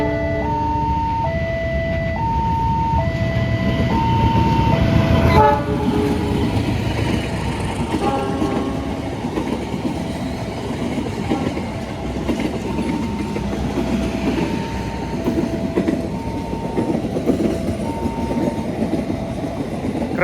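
A Joglosemarkerto passenger train from Cilacap bound for Yogyakarta rolls past loudly and continuously, wheels clattering on the rails, with steady horn-like tones and a rising rush of noise around the middle of the pass.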